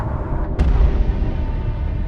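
A single explosion booms in the Solo Leveling Arise video game, a sudden burst with a low rumbling tail over quiet game ambience.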